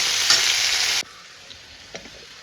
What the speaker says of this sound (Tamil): கொஞ்ச நேரம் வதங்கட்டும் வெங்காயம்.